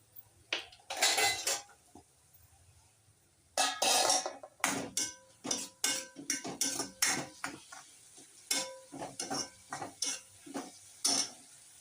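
Vegetables for Maggi with spring onion and butter being stirred in a pan, a quiet run of sharp metallic clinks and scrapes from a spoon against the pan, irregular and close, with no voices.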